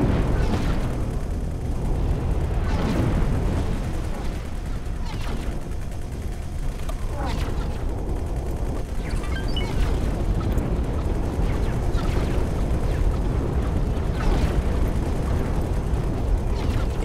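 Continuous space-combat rumble from the video game X4: Foundations, with repeated booming blasts and crackling bursts layered over a dense, loud low roar.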